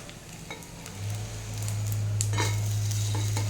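Frying sizzle in a pan while cooking fish curry with brinjal, a steady hiss that swells after a second, with light scraping and stirring clicks on top, close by and without talk.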